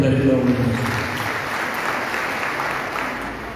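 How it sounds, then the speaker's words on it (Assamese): A crowd at a political rally applauds for party workers, a broad, sustained wash of clapping that begins with some voices mixed in and slowly fades. "মই আমাৰ কৰ্মী বাহিনীৰ কাৰণে এটা হাত চাপৰি বজাই দিবলৈ অনুৰোধ কৰিছোঁ"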